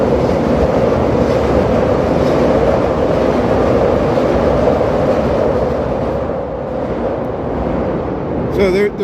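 A Chicago Red Line train passing the Wellington stop, a loud, continuous rumbling roar that holds steady for about nine seconds, heard close by on a street, with a short squeal at the end.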